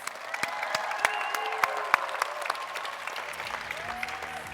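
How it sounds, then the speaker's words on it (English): A crowd applauds at the Monster Jam 2017 season kickoff event, giving a round of applause to the athletes: continuous, moderately loud clapping with scattered sharp claps and faint voices mixed in. "Mark List, Bauer Musauer, give him a round of applause."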